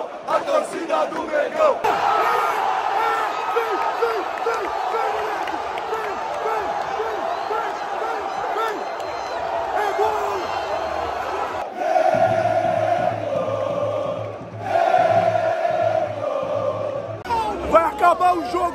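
Flamengo supporters in a football stadium chant in unison during a Club World Cup match against Al-Hilal, a huge rhythmic roar of massed voices with claps and drum-like thumps underneath, continuous and loud throughout.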